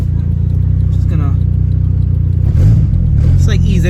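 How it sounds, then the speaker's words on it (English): A Honda Civic fitted with a new turbo and a loud exhaust idles with a steady, deep drone, then gives a brief light rev before settling, while someone talks over it. "Definitely sounds louder because of the way the exhaust is."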